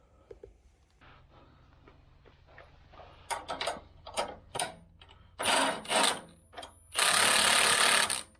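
Rugged Ridge rear sway bar link bolts on a Jeep JK being tightened, with scattered ratcheting and rubbing bursts that grow louder toward the end, ending in a long harsh tool burst.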